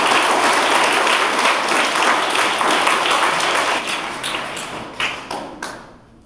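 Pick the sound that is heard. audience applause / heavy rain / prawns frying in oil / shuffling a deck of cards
audience applause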